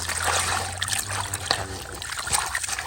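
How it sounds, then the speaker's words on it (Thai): Apple snails are rinsed in plain water, with a close, continuous trickle and slosh of water and light splashes throughout a short stretch. "อันแรกก็มาล้างน้ำเปล่า ล้างทำความสะอาดแบบนี้"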